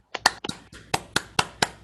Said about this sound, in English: I want to give Brandon a huge thank you and a round of applause